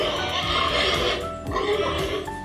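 Pigs on a small farm pen squeal and grunt excitedly at feeding time, a cluster of close, overlapping cries over steady background noise.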